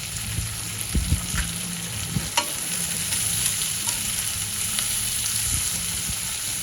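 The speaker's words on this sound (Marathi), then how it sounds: "आणि आपण छान परतून घेऊया. कांद्यावर थोडं मीठ, चवीप्रमाणे मीठ घालायचं." Sliced onions sautéing with salt in a hot pan for zunka, a steady close sizzle with scraping stirs and occasional clinks running through the whole stretch, no talking.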